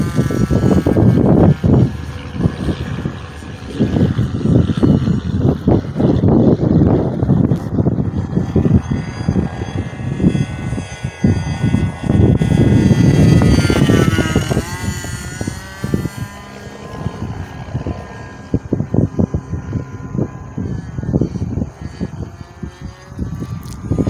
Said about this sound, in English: enjoy this SK50 glow engine with stock muffler run video